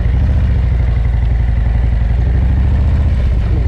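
A Harley-Davidson Road Glide or Street Glide motorcycle in second gear at about 20 mph during emergency braking practice, its loud steady engine rumble and clatter heard close and continuous throughout.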